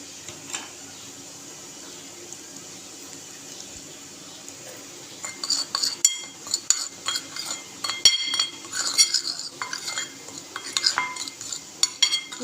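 A spoon mixes achar gosht masala with lemon into a paste in a bowl. Quiet at first, then a run of rapid clinks and scrapes of metal on dish, with no speech.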